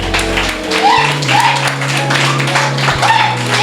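A church congregation claps together in acclamation during an evangelist's service, a dense, steady patter of many hands under a faint background tone and some voices.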